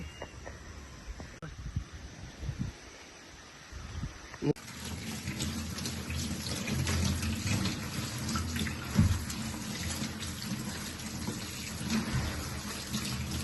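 Freshly harvested garden radishes and beetroot are washed under running water, a steady close splashing that follows a few quieter knocks and handling sounds at the start.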